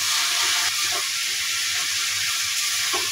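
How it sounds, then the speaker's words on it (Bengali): Washed eggplant pieces dropped into sizzling spice paste in a pan on a gas flame, producing loud continuous frying hiss with small pops and stirring scrapes close by. "এখন আমি ধুয়ে রাখা বেগুনগুলো দিয়ে দেবো।"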